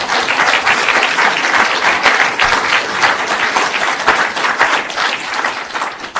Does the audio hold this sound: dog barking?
no